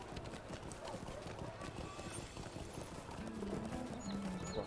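Horse hooves clip-clop steadily in the LOTRO video game, a faint rhythmic trot set under ongoing talk.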